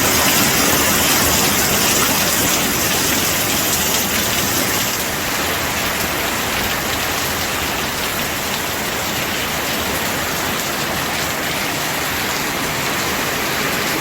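Sudden heavy rain pours down outdoors over a grape vineyard, a dense, even hiss of drops that holds steady and close for the whole stretch, with no voices.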